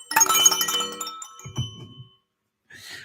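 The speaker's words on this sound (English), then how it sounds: "I just like the sound of that bell." A bell sounds a bright ding-dong chime that rings out and fades, followed by a low thump and a faint brief rustle after a pause.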